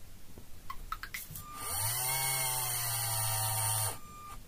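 A LEGO Spike Prime large motor on port C of the hub, set to 75% speed for five rotations, whirs up and holds a steady buzzing hum for about two seconds, then stops abruptly. It is close and clear, with no talk.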